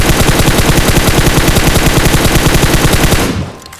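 Rapid automatic Beryl rifle fire in PUBG Mobile, a loud, steady burst of closely spaced shots lasting about three seconds before cutting off abruptly.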